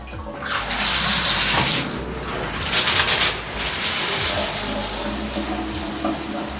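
Water running from a tap through an AquaBliss heavy-duty shower filter, a steady rushing splash that surges and eases in spells, with faint bird calls in the background.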